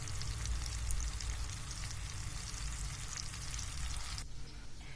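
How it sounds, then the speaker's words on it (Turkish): Steady, dense sizzling of anchovies frying in hot oil in a pan, continuous and close, with a crackling texture that eases slightly near the end. "Ve kızartıyorum."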